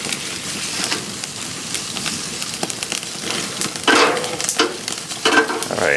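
Thick slab bacon sizzles and spits on a grill as it chars, a steady crackling hiss with louder bursts of fat popping toward the end, close up and without speech.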